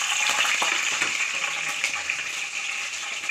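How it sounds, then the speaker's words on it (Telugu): Onions, tomato and ginger garlic fry for mushroom biryani with a continuous hissing sizzle and light stirring clicks, fading slightly toward the end. "ఫ్రైడ్ ఆనియన్స్ కొన్ని, టమాటా, అల్లం వెల్లుల్లి వేసి ఫ్రై చేస్తాను"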